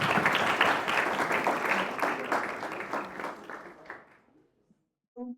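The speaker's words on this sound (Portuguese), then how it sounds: "Palmas pro Bruno." Applause from an audience at a tech meetup in Curitiba rings out dense and close, tapering off over about four seconds into silence before a brief voice at the end.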